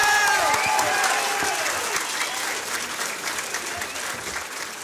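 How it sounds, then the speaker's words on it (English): Parents and friends at a Co-op Tech 2023 completion ceremony give loud, sustained applause that gradually tapers, with faint voices mixed into the clapping. "Give yourself an applause."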